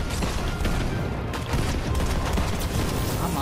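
Rapid gunfire bursts from Fortnite gameplay on PS4, a dense crackle of shots running continuously with voices faintly beneath.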